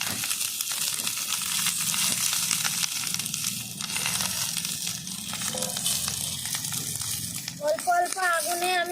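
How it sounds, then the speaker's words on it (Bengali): Eggplant paturi parcels fry in mustard oil in a wok over a hot stove, making a continuous close sizzle, with a voice briefly speaking near the end. "এইবার কড়াইতে হালকা করে একটু দেখো সর্ষের তেল দিয়ে দিয়েছি হালকা করে এবার সব পাতুড়িগুলো আমি এইভাবে পেতে দেবো"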